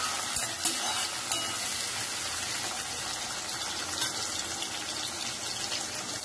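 A pan of finely chopped tomato and onion sautés with a dense, continuous sizzle and a few faint stirring knocks, close and steady, with no talk.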